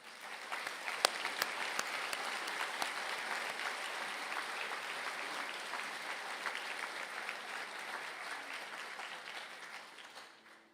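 Sustained audience applause for graduates at a university conferring ceremony in Galway, a dense steady patter of many hands clapping in a large hall, fairly distant and even, lasting about ten seconds before fading.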